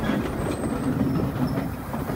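An old mini train rumbles along worn mountain rails in Wulai, Taiwan, with a steady close clatter and faint wheel squeal throughout.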